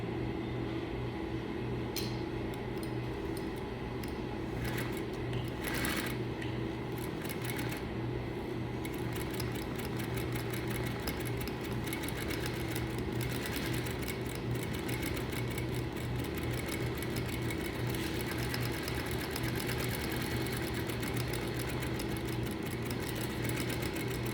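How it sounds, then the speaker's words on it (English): A sewing machine runs steadily while stitching the second row of a French seam, its motor hum and rapid needle clatter continuing without a break for the whole stretch, close and even in level, with no voices. "you're gonna sew your second row of stitching"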